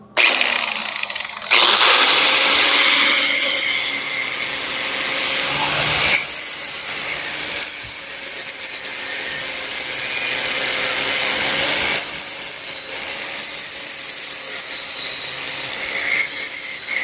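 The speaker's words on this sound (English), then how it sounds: "I'm gonna take the grinder and just clean these tops up real quick." An angle grinder cleans up freshly tacked metal airbag mounts on a Mazda B2200 pickup, a loud continuous harsh whine. It cuts out briefly several times and restarts.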